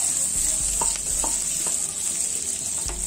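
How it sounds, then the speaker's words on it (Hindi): Onions and potato fry in a pan, sizzling steadily and close, while a spoon stirs and scrapes several times. Nobody speaks. "इसी तरह से फ्राई कीजिए।"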